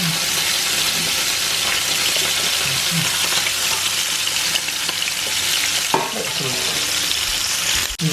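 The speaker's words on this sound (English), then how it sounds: "Put these in the same pan just now, get them cooked off." Scallops sear in a hot pan alongside halibut, giving a loud continuous sizzle and crackle with occasional scrapes and clatter from handling.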